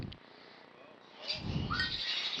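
Pet birds, including one named Milo, chirp and tweet indoors with short high calls over a steady background hiss, moderately close and fairly quiet.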